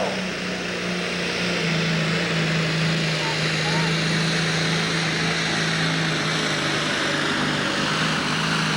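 A hot rod engine at a 1995 pull in Evansville, Indiana, roars as a loud, sustained, droning howl that fills the whole stretch, with a voice faintly mixed in underneath.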